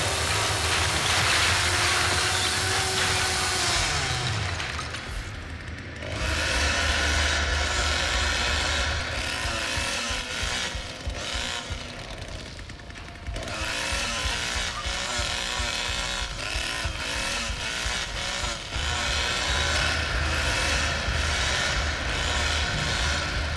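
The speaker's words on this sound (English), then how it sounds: "you rev that chainsaw, it does make a difference" In The Texas Chain Saw Massacre video game, Leatherface's chainsaw revs and idles in loud, sustained bursts, dropping out briefly twice before roaring back up, with no talking over it.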